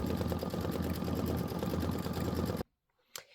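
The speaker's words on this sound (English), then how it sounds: "Again, this is going to be 6 minutes of stitching. So just let it stitch." An Aveneer embroidery machine stitches a Boo Manor tile design with a steady, rapid mechanical hum and needle chatter that runs continuously, then stops abruptly and leaves near silence with one faint click.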